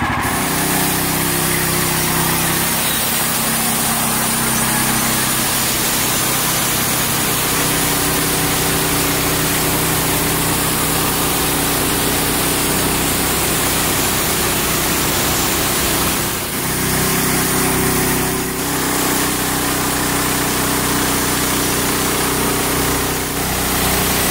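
Hud-son Patriot sawmill with upgrades cutting through a log stood on end, a loud steady engine and blade roar running continuously with a few brief dips.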